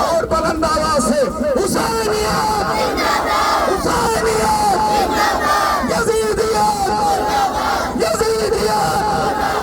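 A crowd at a seventh-Muharram majlis in Gopalpur, Siwan, Bihar, shouts a slogan back in unison, repeated loud collective chants with pauses between calls and a continuous crowd din.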